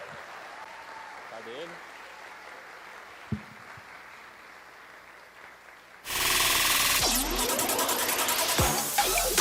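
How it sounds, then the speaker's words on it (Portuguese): An audience at a talk welcomes the speaker: a quiet room with a brief spoken question gives way to loud, dense applause that breaks out suddenly and continues to the end. "Vamos receber com uma linda salva de palmas"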